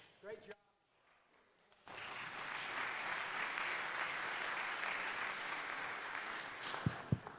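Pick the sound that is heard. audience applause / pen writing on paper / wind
audience applause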